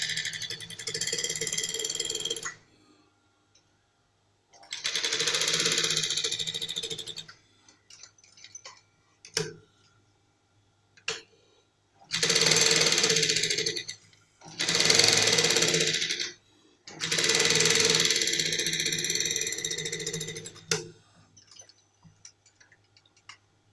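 A sewing machine stitches a trouser pocket in five bursts of rapid mechanical clatter, each lasting a few seconds, close and loud, with quiet clicks and handling noises in the pauses between.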